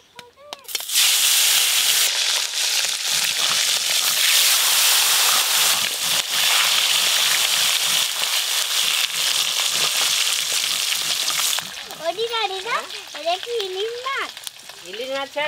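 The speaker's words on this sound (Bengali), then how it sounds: "এবার সব মাছগুলো ভেজে নেব।" Chandana hilsa pieces drop into hot oil and burst into a loud, dense sizzle almost at once. The frying roars steadily for about ten seconds, then drops a little as a voice starts talking over it.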